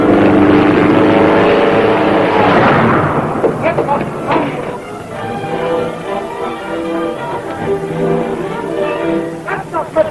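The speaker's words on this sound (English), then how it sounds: "What's the matter with that plane? That motor don't sound right to me." An airplane motor running rough while the plane does stunts overhead in a 1937 western: a loud, wavering drone with strong tonal harmonics that swells at first, then sputters and fluctuates.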